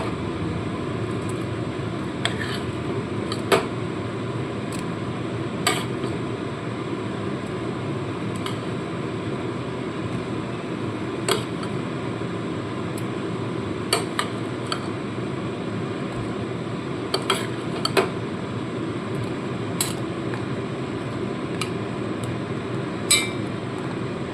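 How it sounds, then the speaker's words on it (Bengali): Fried semolina pantuas are placed one by one into sugar syrup in a pot, with sparse sharp clinks of a utensil against metal over a steady background hiss. "এবার সমস্ত ভেজে রাখা পান্তুয়াগুলোকে আমি শিরায় দিয়ে দিচ্ছি"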